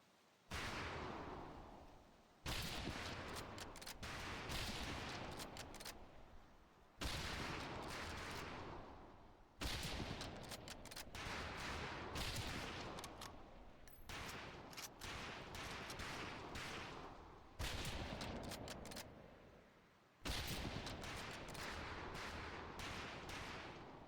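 Rifle fire at a training range in the video game Medal of Honor Pacific Assault: a steady series of loud, sharp single shots spaced a few seconds apart, with nothing else heard between them.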